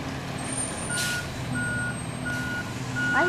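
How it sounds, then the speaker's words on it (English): A garbage truck backing up next door sounds its reversing alarm, a steady run of evenly spaced electronic beeps over a low engine rumble and outdoor background noise. "There's a garbage truck stopping at next door."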